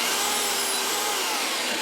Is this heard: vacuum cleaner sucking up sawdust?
yes